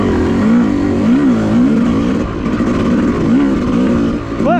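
A Yamaha YZ250 dirt bike engine hums at low revs in fifth gear, its highest, a steady throbbing drone that rises and falls slightly, close and loud.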